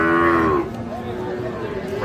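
A Sahiwal calf moos once, loud and close, a drawn-out low call lasting about half a second at a livestock market, followed by a quieter background murmur.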